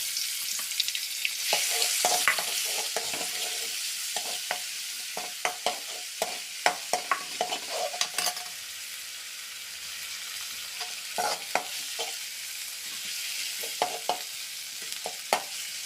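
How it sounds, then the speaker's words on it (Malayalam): Ginger garlic paste sizzles in coconut oil in a pan, a close crackling fry punctuated by frequent sharp scraping and clinking strokes of a spoon stirring against the pan. "അതിലേക്ക് ഇഞ്ചി വെളുത്തുള്ളി പേസ്റ്റ് ഇടാം ആദ്യം"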